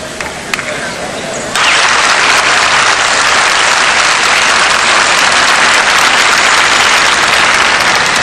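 Crowd applause bursts out after a brief quieter lead-in and swells into loud, steady clapping and cheering for the winning dog at the 1981 German Shepherd Dog Club of America National show, with voices mixed into the noise.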